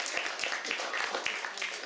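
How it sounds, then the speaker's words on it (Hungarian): An audience at a book launch claps together in a dense, steady patter of applause from many hands, filling the room at moderate loudness. "Hát ezért tapsoljuk meg őt"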